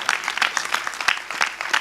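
Audience at a Gujarati comedy show giving loud, sustained applause, a dense wash of clapping with scattered sharper claps, no talking.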